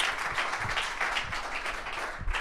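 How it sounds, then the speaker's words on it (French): An audience at a comedy year-in-review show claps steadily, a moderate, even patter of many hands heard from a slight distance. "On peut applaudir."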